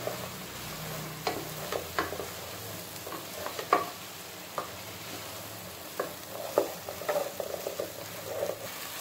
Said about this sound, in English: Mix it properly.